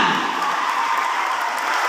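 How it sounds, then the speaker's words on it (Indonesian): Dense clapping from a crowd at a school anniversary ceremony at SMP Negeri 1 Kota Gorontalo fills the short moment, a continuous patter at steady volume with no voices standing out. "Tepuk tangan untuk kita semua."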